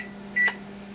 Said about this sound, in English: Me and my constant timer setting.